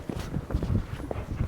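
A horse's hooves thud on the ground during a schooling session, a series of dull irregular steps close by as the horse moves and halts, with soft background noise.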